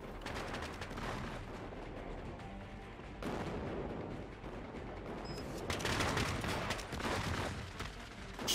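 Sustained gunfire in the Cepheus Protocol video game during a push in the Halloween update, with dense volleys of shots and bursts rolling on continuously, growing louder and heavier toward the end.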